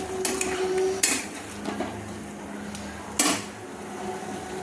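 A spoon stirs slit green chillies in a cooking pan of egg curry, giving a few sharp metallic knocks against the pan over a low background hum, with quieter scraping between the strikes.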